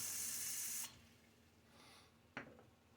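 A shaving brush dipped back into a water-filled sink during a wet shave: a short rush of running tap water, then a quiet pause and one brief splash near the end, close by.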